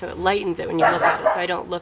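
Neighbor dogs barking and yipping in the background, several short barks scattered under a person talking steadily close by.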